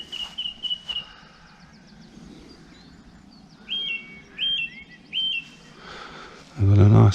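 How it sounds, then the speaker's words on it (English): A song thrush sings from a tree beside a canal towpath on an evening walk, its short repeated whistled phrases coming in bursts against quiet outdoor ambience, with a louder rumble near the end. "I've got a nice song thrush in the tree."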